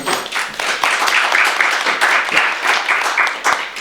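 A room full of people at a talk claps loudly and continuously, a close, dense patter of hands with no talking.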